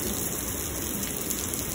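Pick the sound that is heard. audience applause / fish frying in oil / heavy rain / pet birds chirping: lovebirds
heavy rain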